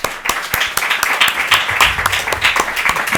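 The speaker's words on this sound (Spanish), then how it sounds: "vamos a darle un aplauso de bienvenida" Welcoming applause from a lecture audience greeting a guest speaker on Asturian theatre and emigration, a dense crowd of claps sustained steadily for a few seconds at close range.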